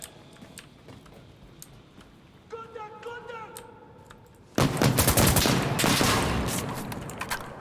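Gunfire in the video game Insurgency Sandstorm: after a few seconds of faint ticking and scattered shots, a loud, dense burst of rapid rifle fire suddenly erupts and keeps going, with voices mixed in.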